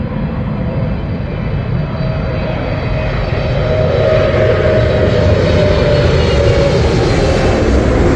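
British Airways Boeing 777 airliner landing at Heathrow, a loud, steady jet engine roar with a rumbling low end and thin whine on top, swelling slightly as it nears, continuous and without talking.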